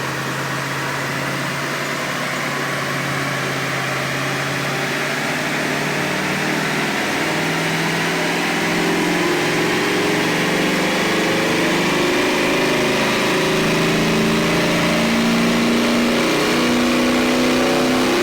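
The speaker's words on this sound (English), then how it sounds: "So we're gonna start the truck and get this thing tested." A 1995 Ford F150 truck engine with a throttle body spacer fitted, on a dyno, running loud and steady with a rising drone as the revs climb, no voices.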